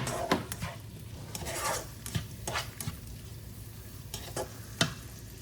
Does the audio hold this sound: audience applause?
no